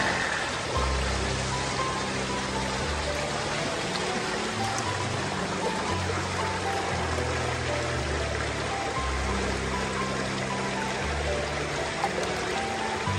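A rain-swollen stream near Badlapur where people are fishing, its water rushing and gurgling steadily for the whole stretch, close and constant, with no voices.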